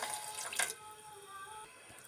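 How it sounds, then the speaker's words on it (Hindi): Water pouring into a pan of jaggery for sweet puray, a brief splashy pour that swells near the start and then settles into a faint trickle. "सबसे पहले गुड़ शामिल करेंगे और 1/2 कप ही इसमें पानी शामिल करेंगे"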